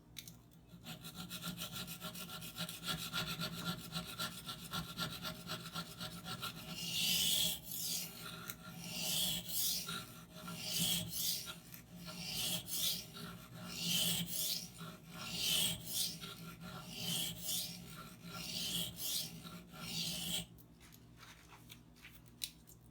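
A CPM-4V steel knife is drawn across a sharpening stone in a steady run of about a dozen rhythmic rasping strokes, close and fairly quiet, with a duller scraping lead-in before the passes begin.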